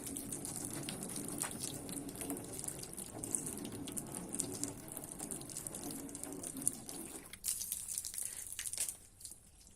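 Water from a hose runs and sprays over the sides of a car being wet down for a water-beading test after a quick polish, a steady rushing hiss that continues closely throughout and thins out near the end.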